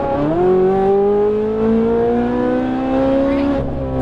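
A Ferrari 458 Italia engine on a track pulls steadily higher in revs under throttle, loud and close with a continuous rising tone that dips briefly near the end.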